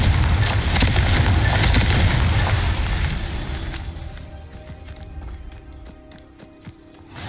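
Confringo fire spell blast in Hogwarts Legacy: a loud, broad fiery burst and crackling rumble that fades over several seconds into quieter scattered clicks and ambient game sounds.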